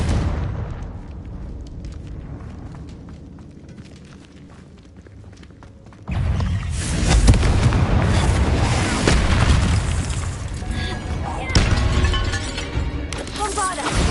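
A Confringo blasting spell in Hogwarts Legacy, a sudden heavy boom that breaks a quieter stretch and gives way to rumbling debris and crackling blasts, with a voice in the mix.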